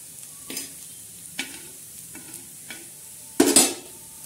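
Onion fries in oil in a pan, a low continuous sizzle broken by several sharp scraping stirs of a utensil, the last one loudest near the end, with no voices.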